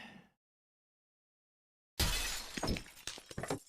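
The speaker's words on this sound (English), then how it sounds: "the glass shatter sound effect from launching Grand Theft Auto 5" A glass-shatter sound effect heard at the launch of the Grand Theft Auto 5 game: a brief sound, then near silence, then a loud crash of breaking glass with scattered tinkling pieces that go on to the end.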